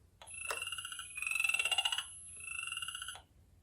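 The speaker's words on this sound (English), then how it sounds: "And then the chorus frog sounds like this." A chorus frog calls alone in three close, loud trills, each a rapid series of rising pulses lasting about a second, separated by short gaps.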